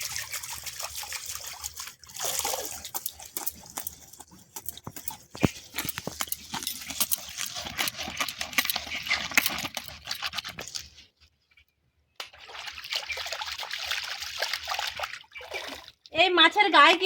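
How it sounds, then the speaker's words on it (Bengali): Live stinging catfish are rinsed and rubbed in pond water, giving trickles and splashes of water in bursts with brief pauses, while someone talks. "পুকুরের জলে ভালো করে ধুয়ে নিচ্ছি।"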